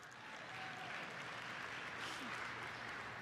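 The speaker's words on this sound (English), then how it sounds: "go ahead, you can clap" Keynote audience at a SharePoint conference applauding steadily throughout, a dense wash of many hands clapping at moderate distance with a low hum underneath.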